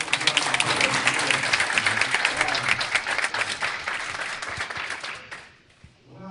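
A large congregation applauds the parents of a young performer, steady dense clapping that is loud and sustained for several seconds before tapering off into quiet.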